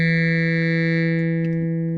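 A sawtooth wave run through a modal filter on the Dawesome Myth physical-modeling synth makes a sustained, buzzy harmonic drone with a metallic, resonant edge, steady for about two seconds and heard alone.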